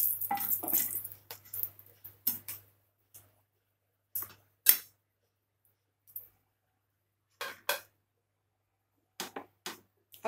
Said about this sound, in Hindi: अब हम थोड़ा इसे हिलाएंगे।